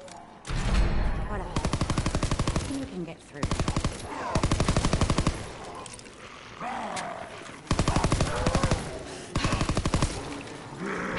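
A PPS submachine gun in Call of Duty WWII zombies mode fires several loud, rapid bursts, each a rattling string of closely spaced shots, with short pauses and game noise between them.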